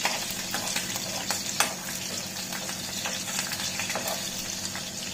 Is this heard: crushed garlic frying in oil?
yes